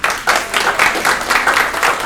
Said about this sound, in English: let's give a round of applause again for Tony